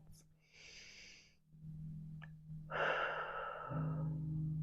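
Slow, deep breaths during a shoulder-release yoga flow, soft and close, with airy inhales and exhales over a faint low hum.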